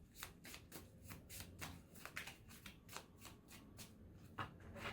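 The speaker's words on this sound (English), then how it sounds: "I like to shuffle them a lot sometimes" Oracle cards shuffled by hand in a steady run of soft, quick riffling flutters, close and fairly quiet, with no talking.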